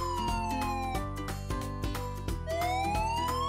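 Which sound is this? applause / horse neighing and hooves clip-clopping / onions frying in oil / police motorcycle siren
police motorcycle siren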